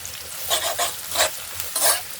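Chopped garlic frying in a pan with browned onions for a Bengali egg and matar curry, with close sizzling broken by several bursts of stirring and scraping.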